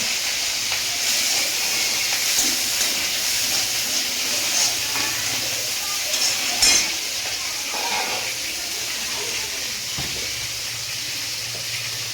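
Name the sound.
prawns frying with garlic and dried chilli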